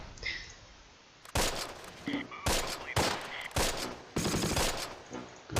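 Gunfire in the WWII strategy game Close Combat: Last Stand Arnhem, loud bursts of rifle and machine-gun fire following one another after a quiet opening.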